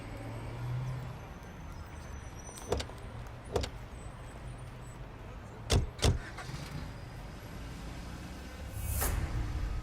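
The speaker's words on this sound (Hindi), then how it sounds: "गाड़ी रोको" A car drives along a road, heard from inside as a steady low rumble with a few sharp clicks and knocks scattered through and a rise in road noise near the end.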